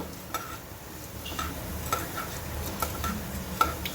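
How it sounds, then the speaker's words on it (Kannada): Cumin seeds and coriander frying in hot oil in a pan, a soft steady sizzle with light scraping stirs and small metallic ticks of a spoon against the pan, close and alone without talk. "ನಾನು ಎಣ್ಣೆ ಹಾಕಿ ಜೀರಿಗೆ ಹಾಕ್ತಾಯಿದ್ದೀನಿ ನೋಡಿ"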